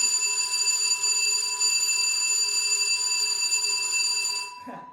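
Electric school bell ringing loudly and continuously with a steady metallic buzz, cutting off abruptly near the end during a primary school basketball session.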